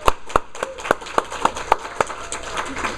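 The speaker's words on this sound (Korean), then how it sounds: "다시 한번 한우진 형제한테 우리 감사 박수 한번 줄까요?" A church congregation claps in thanks, sharp hand claps landing together in an even, quick beat, about ten strong strikes before they blur into looser, scattered applause.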